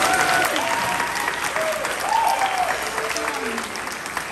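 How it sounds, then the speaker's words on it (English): An audience applauds at a spring concert, steady full-room clapping at close range, with a few voices calling out over it before the applause slowly eases off. "Oh yeah, we'll clap"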